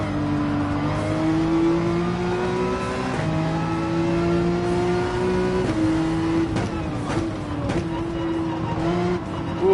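A race car engine in Gran Turismo 7 screams at high revs during an online daily race, its pitch climbing, dropping at each gear change and climbing again, loud and close with a faint tire squeal.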